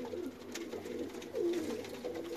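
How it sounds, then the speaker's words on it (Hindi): Trained flying pigeons coo softly at close range in a loft in Wazirabad, with low throaty calls repeating and one fuller coo in the middle. "ये परवाज में डले हुए कबूतर हैं।"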